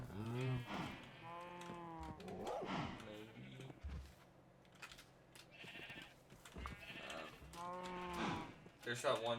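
Cows in the Minecraft video game moo repeatedly in long, drawn-out calls with clear pitch bands, loud and close, spread across the stretch with quieter pauses between them.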